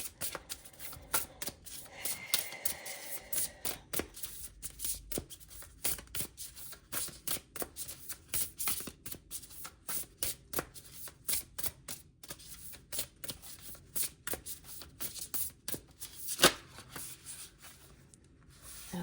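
Playing cards being shuffled and handled up close, a long run of quick rippling riffles and soft card slaps in uneven bursts, with no talking.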